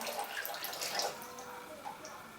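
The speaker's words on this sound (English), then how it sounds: "We unscrew that until the water runs out of the pump." Water trickling and dripping out of a cast iron swimming pool pump as it drains during pool closedown, light and close with irregular splashes that taper off.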